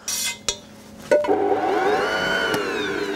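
A kitchen stand mixer beating choux pastry dough starts with a couple of clicks, then spins up into a loud, steady whirring drone that holds near and continuous, with a faint knock partway through.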